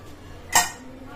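A pot of water for tea being set down on a stove, one sharp metallic clink up close and then a quiet kitchen.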